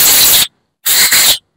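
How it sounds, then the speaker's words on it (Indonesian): Two loud bursts of compressed air spraying through a Suzuki Smash motorcycle carburetor to dry its passages, a half-second hiss, a pause, then a longer hiss briefly interrupted mid-way, with no talking. "Ini kita semprot-semprot dulu pakai angin"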